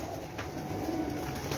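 A champion racing pigeon's mother coos softly at close range from a rooftop loft, a low steady murmur with no talk over it.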